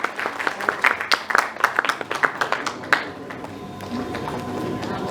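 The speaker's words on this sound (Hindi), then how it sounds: "पर जोरदार तालियां" An audience claps at a Bollywood awards ceremony, a dense burst of close handclaps that thins into scattered claps and a murmur of room noise.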